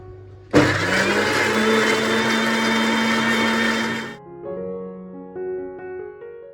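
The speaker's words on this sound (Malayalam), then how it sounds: "പിന്നെ അതിൽ കുറച്ച് ഒലീവ് ഓയിലും കൂടെ ഒഴിച്ചിട്ട് ഇത് നന്നായിട്ട് പേസ്റ്റാക്കി അരച്ചെടുക്കുകയാണ്." An electric mixer grinder whirs loudly and steadily for several seconds, blending a peri peri spice paste with olive oil for chicken, then winds down with a falling, ringing hum as the motor slows.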